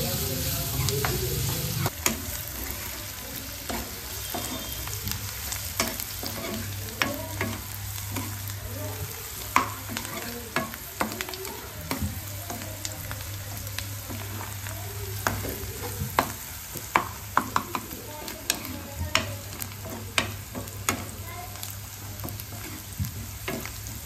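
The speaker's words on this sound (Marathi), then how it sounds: "कांदा इथे थोडासा लालसर होईपर्यंत भाजून घेणार आहोत." Onion frying in a pan until reddish for a homemade black-masala chicken, a continuous sizzle punctuated by frequent sharp spatula scrapes and taps against the pan, close and steady throughout with no talk.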